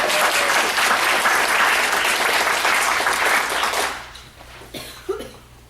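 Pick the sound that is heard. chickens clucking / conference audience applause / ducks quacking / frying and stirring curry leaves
conference audience applause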